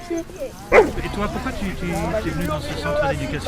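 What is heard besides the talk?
Belgian Malinois dog barking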